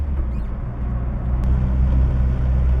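A stock 37-year-old Toyota AE86 with 130 horsepower driving on a road, giving a steady, low, close engine and road hum that grows a little louder toward the end.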